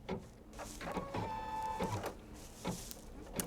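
A computerized embroidery machine stitches a decorative bunny-ears outline on a quilting project, a faint, steady mechanical whir with rhythmic needle ticks and short tonal motor hums.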